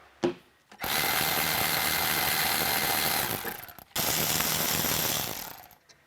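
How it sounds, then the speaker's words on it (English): A power ratchet whirs loudly on 14 mm brake caliper bolts during a coilover install on a Nissan Y32 Gloria/Cedric/Cima, two sustained bursts of buzzing tool noise separated by a brief pause, close and alone. "Next, we're going to take off these caliper bolts. They are a 14 millimeter, not a 12."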